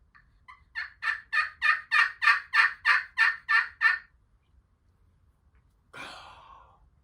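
A wild turkey gobbles in a rapid rolling burst of about ten pulses, loud and close, followed after a pause by a short rough call.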